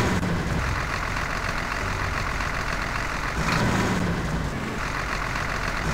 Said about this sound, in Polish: co to za bardzo dziwny czołg